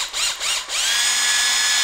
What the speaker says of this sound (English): If you've got a cordless drill, great. It's a lot faster.